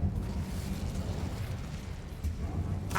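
An Incendio fire spell cast in Hogwarts Legacy gives a low, rumbling whoosh of flame that holds steady, with a sharp burst right at the end.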